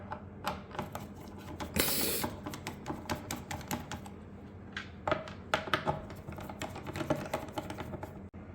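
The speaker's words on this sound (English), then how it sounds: "Next is remove the screws by hand." Screws being turned out by hand from a Samsung wireless surround sound subwoofer's speaker, a steady run of small metallic ticks and clicks close up, with one brief louder scrape midway and no talk.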